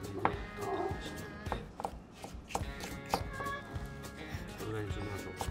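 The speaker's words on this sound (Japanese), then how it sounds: "人参4分の1本 みじん切りします。" A quarter of a carrot is finely minced with a knife, giving a run of quick, irregular chopping taps of moderate loudness over a steady background hum.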